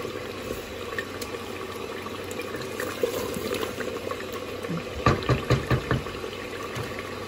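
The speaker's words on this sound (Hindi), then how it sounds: "अब मैं इसमें डालने लगी हूँ पानी" Water poured into a pot of browned meat for aloo gosht, a steady bubbling and sizzling wash throughout with a burst of splashy pouring sounds near the end.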